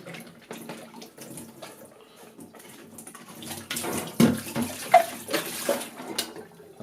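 Water washes Kodak positive film during slide development, a soft running, sloshing rush that grows splashier toward the end, with a few sharp bumps and no talk.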